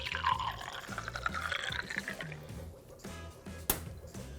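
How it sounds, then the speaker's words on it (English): Water is poured slowly and carefully into a jar as the first layer of a density column in a chemistry demonstration. The soft, faint trickle runs steadily under a low background hum. "It is important, though, to pour each layer carefully and slowly."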